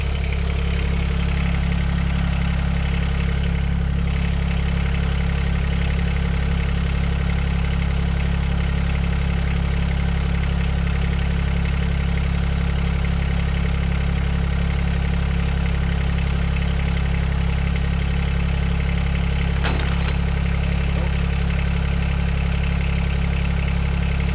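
A Mahindra eMax 20S HST compact tractor runs steadily with a deep, even engine drone while its front loader is raised. One brief sharp sound breaks in near the end, and no one speaks.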